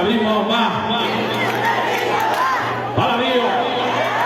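A crowd at a sonido dance anniversary event in a Mexico City dome chants a rhythmic cheer in unison, loud and close, a booming sound system running underneath.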